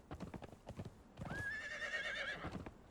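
A horse in the video game Conan Exiles clip-clops with several quick hoof strikes, then gives a loud, clear whinny lasting about a second, heard alone at close range.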